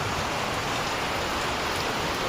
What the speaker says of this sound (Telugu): Complete raining.